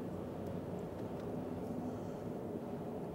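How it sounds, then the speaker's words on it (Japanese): Steady low rumbling tire road noise inside a moving 2001 Chevrolet Cruze on all-weather-pattern tires, engine below 1000 rpm, constant and even with no voices. "ロードノイズがかなりします"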